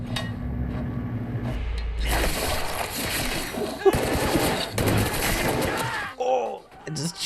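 Incendiary-round gunfire in the action film Rambo: Last Blood, a dense, sustained burst of rapid automatic shots with clattering mechanical texture that rolls on loudly for several seconds before cutting off.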